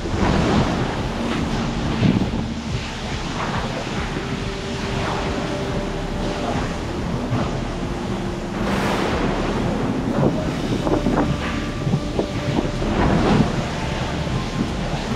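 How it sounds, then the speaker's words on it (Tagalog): Strong waves crash and wind roars steadily at sea during a typhoon, with heavy surf and gusty wind buffeting the microphone in a continuous loud wash throughout. "Ang lakas ng alon. Ang lakas ng hangin."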